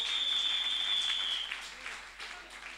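A church congregation applauds, a soft, distant wash of clapping with a steady high electronic tone over its first half.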